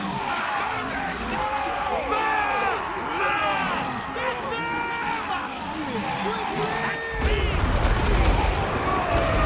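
Units fire volleys in a Total War: Warhammer 2v2 multiplayer battle. Crackling gunfire and battle noise run steadily under nearly continuous talk, with a louder, rumbling burst near the end.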